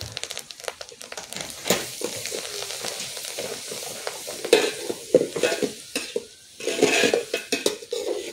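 Tempering spices (black gram, curry leaves, dried red chillies, garlic) sizzling and crackling in hot oil while a utensil stirs and scrapes against the pan, close and busy with intermittent clinks.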